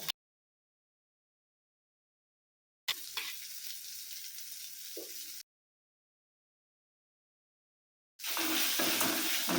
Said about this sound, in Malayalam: നല്ലപോലെ ഒന്ന് ഇളക്കി കൊടുക്കാം